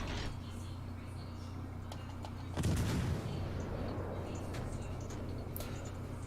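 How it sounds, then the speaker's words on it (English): Warship guns fire in the naval video game World of Warships Legends: one loud boom hits midway through, then rumbles away over a steady low engine hum and background game noise. "Let's take some quick shots at these guys."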